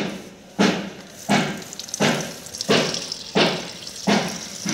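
Water laden with settled silt from x-ray film silver recovery is poured off in repeated splashing surges, about six evenly spaced gushes, each rising sharply and then fading, close and moderately loud.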